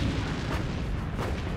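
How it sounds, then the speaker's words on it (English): Naval 5-inch guns on a WWII destroyer firing at an incoming Val dive bomber, a dense, loud sustained roar of booming gunfire with a couple of stronger bursts. "Laffy's 5-inch guns quickly open fire."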